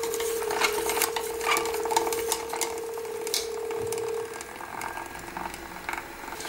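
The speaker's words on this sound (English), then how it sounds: "My stir bar's got stuck because of all the precipitate here." A magnetic stir bar stuck in thick precipitate in a lab flask, rattling and scraping irregularly over a steady motor hum that cuts out partway through, close and fairly loud.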